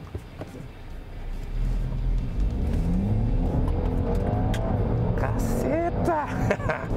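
A Range Rover Sport in sport mode accelerates hard, its engine rumbling and then climbing steadily in pitch over several seconds, loud and close, with rising gear-change sweeps near the end.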